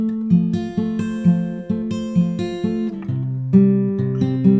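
Fingerstyle acoustic guitar plays the third verse line of a song, picked bass notes and chords ringing close and clear in an even, steady rhythm, with no voice.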